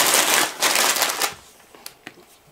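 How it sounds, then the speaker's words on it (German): Plastic bags rustle and crinkle loudly as they are unpacked, several close crackling bursts followed by a few fainter rustles and clicks. "Erst einmal sehr, sehr viele Tüten, die erstmal laut sind."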